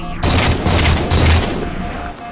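Enemy gunfire in Halo 4 crackles in a dense, loud fusillade of rapid shots and booms, sustained for a couple of seconds.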